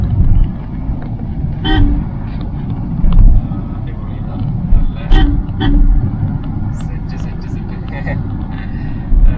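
A Force Urbania van drives along a road with a steady low engine and road rumble, a few horn toots from traffic, while someone inside talks over the noise.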